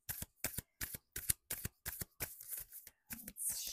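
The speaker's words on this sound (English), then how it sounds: "Let's shuffle in here." A sacred deck of oracle cards being shuffled by hand in close, crisp bursts of riffling and sliding, about eight quick rhythmic passes in a row with brief pauses between, heard alone.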